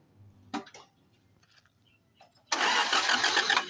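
An owner-type jeep with a 4K engine cranks briefly after a few faint clicks and knocks, then starts and settles into a loud, steady rough idle close by.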